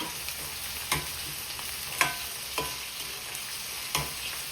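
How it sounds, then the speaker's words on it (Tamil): Salt is mixed into onions frying in a pan, a soft continuous sizzle broken by about six spaced scrapes and taps of a spoon, close up with no talking. "இதையும் நல்ல வடிவாக இப்போ மிக்ஸ் பண்ணி விடுவோம்."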